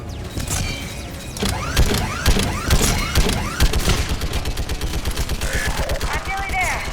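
A gun emplacement in the video game Mass Effect 3 fires rapid, sustained bursts of heavy automatic gunfire with mechanical clanking, loud and continuous throughout.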